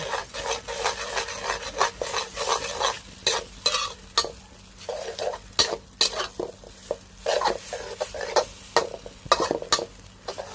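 Glass noodles stir-fried with cha-om and minced pork, a spatula scraping and tapping the pan in a steady rhythmic stroke over a low sizzle, close up with no talking.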